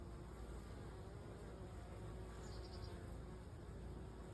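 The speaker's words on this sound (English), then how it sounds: "You're not going to catch a very big swarm with these buckets." Honeybee swarm in a bucket swarm trap, a soft continuous buzzing hum heard close and steady, faint overall with no talking.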